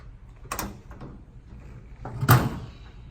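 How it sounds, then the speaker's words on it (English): The end door of a 51-inch heat transfer calendar machine is opened, giving two separate knocking, sliding clunks about two seconds apart with quiet gaps between. "Then we open the end door."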